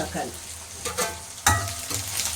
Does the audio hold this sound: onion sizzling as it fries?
yes